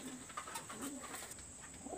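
Pigeons give soft, low cooing calls a couple of times, faint but clear, over a quiet background with no speech.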